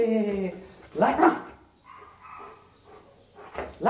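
During clicker training, a dog barks on command once or twice amid a person's encouraging voice, the barks moderately loud and mixed with talk.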